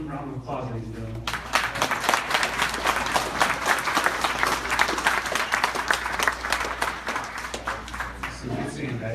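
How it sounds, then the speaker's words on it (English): A ceremony audience breaks into sustained applause after a quiet opening second, a dense, steady wash of clapping from many hands that holds loud for several seconds before easing slightly at the end. "Let's give them a round of applause, ladies and gentlemen"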